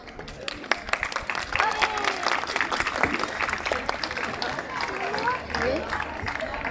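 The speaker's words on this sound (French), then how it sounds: "Je crois qu'on peut encore les applaudir, s'il vous plaît." Audience applause at a live Wakanda-themed warriors show at Avengers Campus, loud and sustained with cheering crowd voices and a few whistles mixed in throughout.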